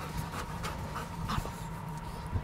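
A service dog on drug-detection duty pants in quick, rhythmic breathy bursts, close and moderately loud, over a low background rumble.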